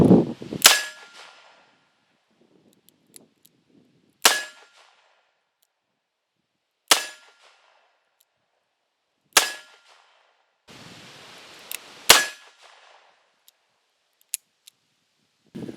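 Five sharp, loud shots from a Smith & Wesson Model 57 .41 Magnum revolver ring out a few seconds apart, each a hard crack with a brief ringing tail and near silence between.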